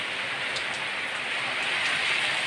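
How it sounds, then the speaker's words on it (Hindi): Rain falling outside a house at night during a power cut, a steady dense hiss of rainfall with faint scattered drops, continuous and even throughout with no voices. "जैसे ही आई वैसे ही बारिश शुरू हो गई"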